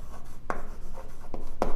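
Pen or marker writing out a maths equation for a quadratic word problem, a few short scratchy strokes at a steady pace, fairly close and moderately loud with no talking.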